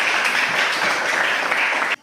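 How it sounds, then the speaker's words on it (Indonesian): A classroom group in Indonesia applauds after a science lesson: dense, even clapping at steady volume that stops abruptly near the end. "Berikan tepuk tangan kepada Tuhan."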